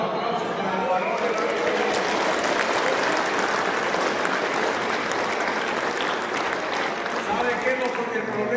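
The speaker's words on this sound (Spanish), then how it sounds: "Aplausos para los varones." An audience at a church gathering claps in dense, sustained applause for the men, loud and continuous throughout, with voices mixed into the crowd noise.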